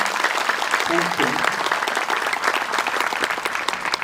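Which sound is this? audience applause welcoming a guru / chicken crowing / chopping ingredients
audience applause welcoming a guru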